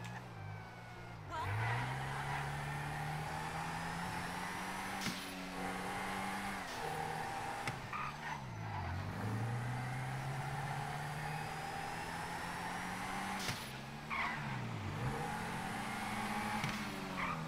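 A car in the GTA 5 video game drives and revs steadily, its engine droning and rising in pitch with repeated throttle swells over continuous road noise, with no talk.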